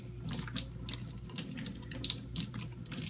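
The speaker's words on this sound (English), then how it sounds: "Now rinse off the lid" Tap water runs steadily into a sink while a plastic lid is rinsed under it, a close, continuous splashing with small shifts as the lid moves through the stream.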